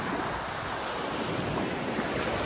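Waves wash onto the seashore and wind blows in the wake of Typhoon No. 10, a loud, steady roar of surf with wind buffeting the microphone throughout.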